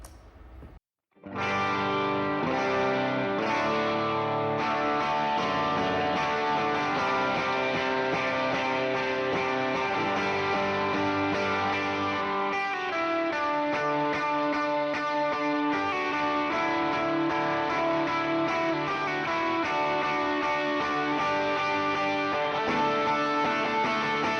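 Electric guitar chords played through an overdrive pedal with an open, spacious reverb, ringing loud and steady and sustained throughout after a brief pause at the start.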